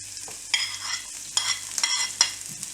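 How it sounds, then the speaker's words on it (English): Chopped ginger and garlic go into hot coconut oil in a pan, with bursts of crackling sizzle and stirring scrapes over a low steady hum, close up and without voices. "Add the chopped ginger and garlic"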